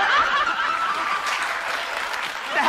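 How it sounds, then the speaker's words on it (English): A live audience applauds with scattered chuckles mixed in, a dense, loud burst of clapping that stays fairly even before easing slightly. "What the hell are you applauding about?"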